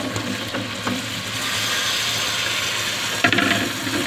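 Spiced potatoes fry in a pan with a steady sizzle and some scraping and clattering, then a sharper burst of sizzling and clatter near the end as eggplant goes in.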